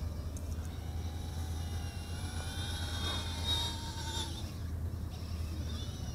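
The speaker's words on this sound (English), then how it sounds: "Hear those motors whining. My goodness, they're operating at high RPM." Eachine Aurora 68 micro FPV racing drone with motors spinning at high RPM, a steady thin whine with wavering pitch over a constant low rumble, moderately distant.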